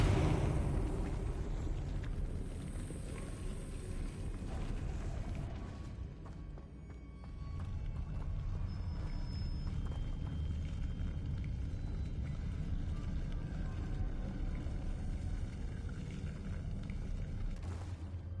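Depulso and Arresto Momentum spells cast in the Hogwarts Legacy video game, heard as a steady rumbling game soundscape with dull booming bursts and a brief dip midway, no talking.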